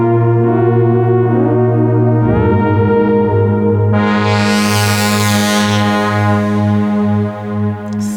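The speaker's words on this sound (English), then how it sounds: "let me show you a couple of the pads from this synth" A 1988 synthesizer plays a sustained pad chord with reverb, loud and steady with rich harmonics, shifting pitch around two seconds and swelling brighter midway before fading with a reverberant tail, no talking.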